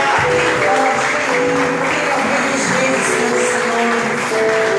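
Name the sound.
congregation applauding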